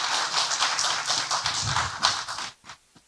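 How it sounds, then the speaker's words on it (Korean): Audience applause for a professor at an international symposium: a dense burst of many hands clapping, loud and sustained for over two seconds, then thinning out and stopping. "다시 한번 우리 교수님께 큰 박수 부탁드립니다."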